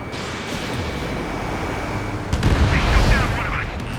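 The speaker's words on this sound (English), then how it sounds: "The harbor's under heavy fire!" Heavy gunfire and explosions around a harbor under attack in Ace Combat 7, a dense rumbling barrage that swells with a booming burst partway through, loud and continuous.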